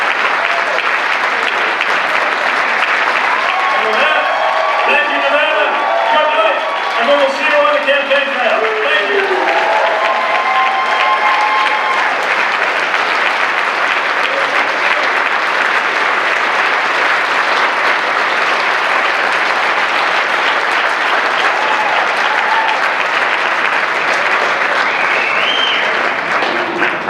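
Sustained, dense applause from a large audience at a Nevada Democratic Party dinner, steady and loud throughout with a brief voice audible over the clapping early on.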